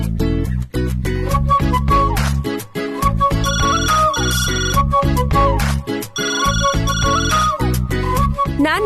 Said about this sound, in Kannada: ಈ ಸಲನಾದ್ರೂ ರಾಧಿಕಾ ಫೋನ್ ಲಿಫ್ಟ್ ಮಾಡೋ ಥರ ನೋಡ್ಕೋ.